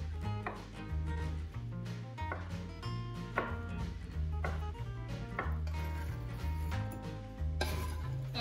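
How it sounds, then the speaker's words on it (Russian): A knife dices boiled eggs on a cutting board in a steady series of close, crisp chops, over background music with a bouncing bass line. "Яйца нарезаю кубиком."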